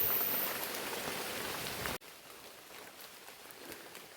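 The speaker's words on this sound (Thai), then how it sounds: "ตอนนี้ฝนตกเอื่อนนะ" Steady rain falls outdoors as a continuous dense hiss, loud at first and then suddenly softer for the rest of the stretch.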